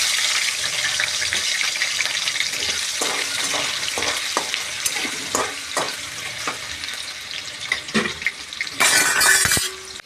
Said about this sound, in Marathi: आणि आता बटाटा तळून घेऊ.